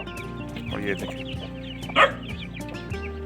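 A hen clucks close by among her chicks, with soft repeated clucks, faint peeping and a sharper squawk partway through, while someone speaks briefly.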